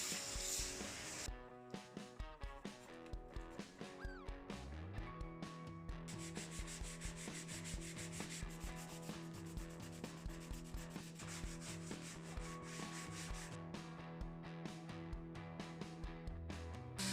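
Old wood of a worm-eaten antique sofa being sanded with sandpaper or a sander, a close, steady rasping rub repeating in short strokes throughout, with no talk.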